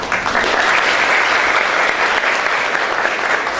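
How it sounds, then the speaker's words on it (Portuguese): Dense, steady applause from an audience at a talk, filling the space loudly and continuously without a break. "uma salva de palmas para esse."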